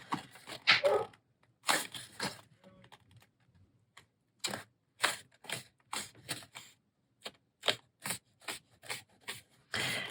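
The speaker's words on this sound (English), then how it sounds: "we're going to go ahead and fold this flap" Paper flaps on a journal spine being folded and creased by hand, giving quiet crisp rustles and sharp papery taps in irregular bursts with short silences between.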